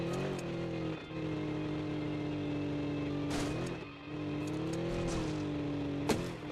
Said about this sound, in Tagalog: maganda daw ang tunog ng sasakyan